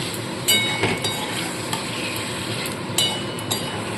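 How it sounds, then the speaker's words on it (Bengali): Lote fish being stirred and coated with spices in a frying pan, a steady sizzle under soft scraping strokes, with a few sharp utensil clinks against the pan. "একদম হালকাভাবে মাছগুলোকে শুধু একটু সমস্ত মশলার সাথে মাখিয়ে নেব"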